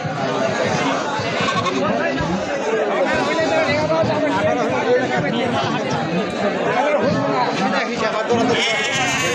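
Goats bleat repeatedly through dense, loud crowd chatter at a busy livestock market in Tebaria, Natore, with many voices talking over the animals throughout.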